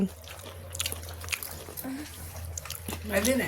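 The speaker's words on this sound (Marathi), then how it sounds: "नुसतं शेव शेव खातोय पाणीपुरी मधली बारीक" A child chews fine sev from pani puri, with soft wet bites and crunchy mouth sounds close by under quiet background chatter.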